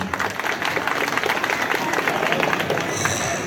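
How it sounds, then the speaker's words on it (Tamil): A school centenary celebration crowd claps together in sustained applause, loud and dense, with a brief voice or background sound entering near the end. "ஒரு சிறந்த கைத்தட்டல் கொடுத்து அவர்கள் அனைவரையும் ஊக்குவிக்க வேண்டுமாய் கேட்டுக்கொள்கிறேன்"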